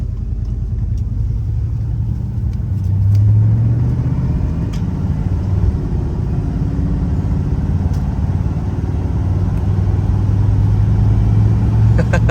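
A 1967 Chrysler 300 V8 with a 727 automatic transmission drives on an open road. Its deep, loud, continuous engine rumble swells slightly as it accelerates.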